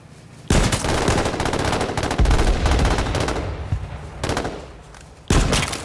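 Rapid automatic gunfire from the battle royale game H1Z1 fires in long, loud bursts with short pauses between, close and dominant with no voices.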